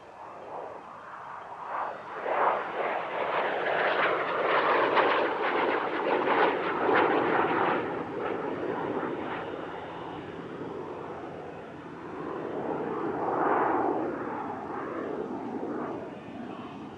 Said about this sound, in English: The aircraft we see here is the ultimate iteration of the Sabre, a Canadian license-built CL-13B Mark VI.